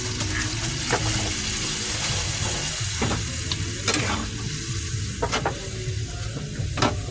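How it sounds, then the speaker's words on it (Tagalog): Pork humba with Sprite being stirred in a pan, a steady sizzle with repeated scraping strokes of the spoon against the pan, close and continuous with no talking. "Haluin natin ng 5 minutes."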